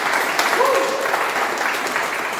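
Warm applause at a Toastmasters club meeting honouring the Toastmaster of the month, continuous clapping from a small group with faint voices and a brief whistle-like tone in the middle.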